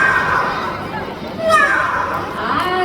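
A parrot imitates a domestic cat's meow, a few rising and falling whistly calls in the middle over steady background chatter and children's voices.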